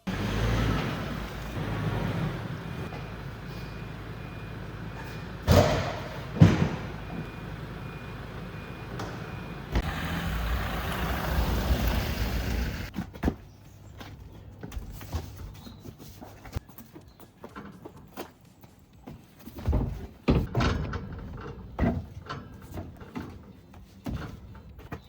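Wheels and tyres loaded into a supercar, with rustling, scraping and handling noise, loud thumps, then a quieter stretch of scattered knocks and door thuds.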